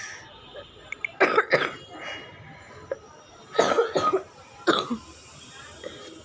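A person coughs hard in three clustered bursts, each a run of rough, close coughs with a throat-clearing quality, separated by quiet pauses.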